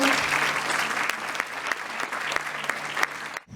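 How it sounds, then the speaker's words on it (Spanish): Sustained audience applause at a business wellbeing panel as a panelist is welcomed, dense and steady, then cutting off abruptly at the end. "Un aplauso para Gustavo."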